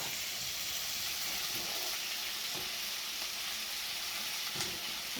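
Onions fry in a hot pan with a steady, dense sizzle and occasional stirring scrapes, continuous and close throughout, with no voices.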